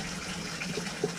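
Water runs steadily from a bathtub faucet in a house, a constant hissing gush with a few small splashy bumps, close by and alone.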